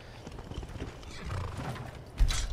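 Horse hooves clip-clop through a video game scene set on a wilderness trail, with a neigh near the end; the steady hoofbeats run throughout, fairly close, and no one speaks.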